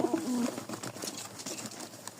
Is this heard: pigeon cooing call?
yes